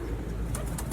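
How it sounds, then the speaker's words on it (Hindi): A green-eyed pigeon coos softly, close by, in a brief low murmur against steady background noise. "ये सब्ज़ आंख के कबूतर है।"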